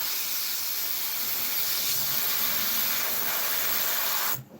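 Airbrush spraying paint onto an Italeri 1/48 scale Hawk model, a steady close airy hiss that runs unbroken for about four seconds and then cuts off abruptly.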